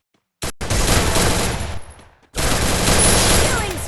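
Dense, sustained automatic gunfire from a mobile shooter game match, loud and close, bursting in after a brief silence, dropping out for a moment, then resuming just as heavily to the end.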